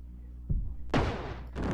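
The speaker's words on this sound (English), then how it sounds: "Oh, I'm being shot at." A couple of sharp gunshot bursts crack out close by in the video game Brick Rigs, loud and abrupt, separated by short pauses.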